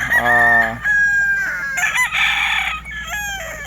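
Roosters crow loudly and close by at a hillside gamefowl breeding farm, with several overlapping cock-a-doodle-doo calls and some clucking from other birds.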